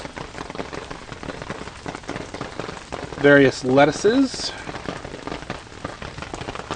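Constant rain patters on vegetable garden plants and soil, with a man's short spoken remark partway through.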